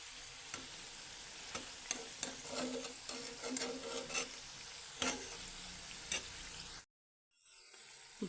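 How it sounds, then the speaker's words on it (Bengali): Homemade sweets fry gently in oil on low heat, a steady soft sizzle broken by repeated sharp clicks and taps of utensils against the pan, close by, ending in a brief silence before the frying resumes. "আর এগুলোকেও হালকা আঁচে ভাজতে হবে"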